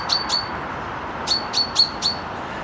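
A chaffinch gives short, bright chirps in the background, two quick notes followed by a burst of three or four, fairly faint against a soft outdoor hiss.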